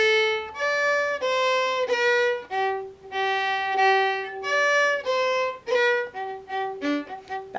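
Fiddle plays the first ending of The Irish Washerwoman, a lively run of clear bowed eighth notes in a steady jig rhythm, close and alone without talk.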